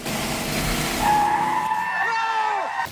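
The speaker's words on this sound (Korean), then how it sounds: "뒷걸음치던 헬레나에게 달려오는 자동차 한 대" A car speeds toward a woman and skids, its tires squealing in a loud rising screech over engine roar, with the squeal bending and sliding in pitch near the end.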